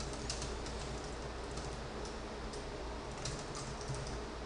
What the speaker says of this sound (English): So I'm going to type some text.